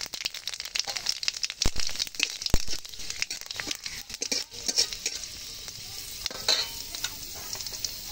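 Bay leaf and panch phoron spices crackle and sizzle in hot oil, with sharp spitting pops and rustling stirring close by for a rohu fish head murighonto, steady and fairly loud throughout.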